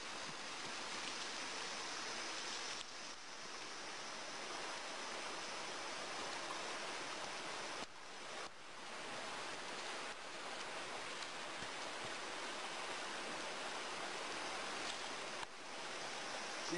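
River water near a bush camp in Brazil flows in a continuous close rush, a dense, even hiss with faint dips and no voices.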